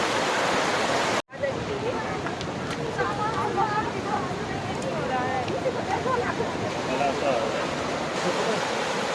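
Steady, full rush of a waterfall, broad and continuous over about nine seconds, with a brief dropout near the start and faint crowd voices mixed into the roar, close by a suspension bridge.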